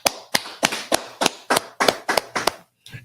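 A small audience at a street preaching gathering claps in a slow, deliberate unison rhythm, about ten sharp, loud claps evenly spaced, ending with a brief pause and one softer clap.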